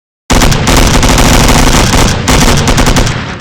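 Rapid automatic gunfire in a mobile shooting game, fired at glasses, a loud, continuous stream of close shots that starts abruptly and keeps going with only a brief break, and no talking.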